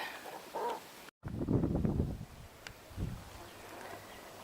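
Chickens cluck and murmur close by during a heat wave, with bursts of throaty clucking and a brief dropout partway through.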